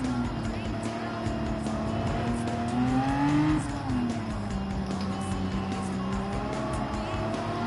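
An 800-horsepower Viper race car in Gran Turismo 7 revs and accelerates hard. Its steady engine drone rises in pitch, dips briefly, then settles into a sustained high-speed whine.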